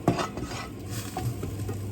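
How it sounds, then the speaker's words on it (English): Onions sizzle and crackle in a pan close up, with a utensil stirring and scraping against the metal. "This is just onions frying now."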